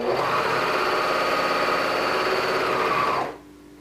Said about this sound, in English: you can't pivot on a serger, so you have to go all the way off at the end